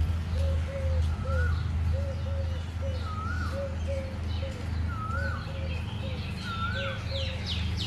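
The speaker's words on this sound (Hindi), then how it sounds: "चिड़िया चहचहाने का आवाज़ चारों तरफ से आ रहा है। कोयल की आवाज़ आ रहा है।" Birds calling around a temple kitchen at Vrindavan, a koel repeating its rising call at steady intervals over softer chirps and dove-like coos, with a constant low hum beneath.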